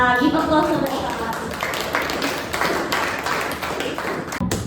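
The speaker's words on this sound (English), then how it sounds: "Give applause for Reva." A classroom of students claps for a classmate, a dense patter of hands that carries on through the clip while a voice speaks briefly over it at the start.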